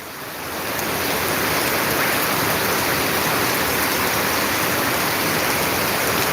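Steady, dense hiss of rainfall, loud and continuous throughout with no voices, like a heavy downpour close by.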